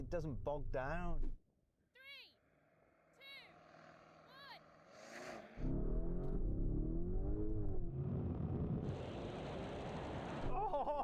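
A Lamborghini Urus with stability control switched off accelerates with wheelspin, its engine surging into a loud, sustained roar. Earlier, excited voices talk and exclaim before the engine note rises.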